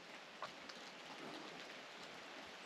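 Rain falls outside a rock shelter under a bluff, a soft, steady patter and hiss heard from cover, faint and continuous with a few distinct drops.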